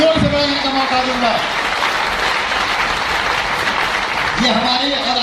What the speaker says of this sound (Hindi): ताली बजाने का मौका दूंगा, इससे जोर से बजाने का मौका दूंगा